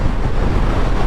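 Heavy, steady wind roar buffets the microphone while riding a Suzuki GSX-S1000 GT motorcycle fitted with a double bubble screen, loud and continuous throughout the short stretch.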